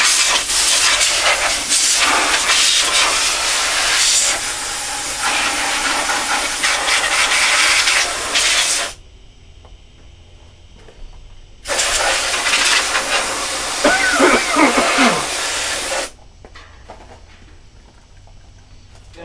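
An air compressor blasts drywall dust out of a filthy computer in long, loud hissing bursts, with short quieter pauses between blasts and the pressure dropping near the end.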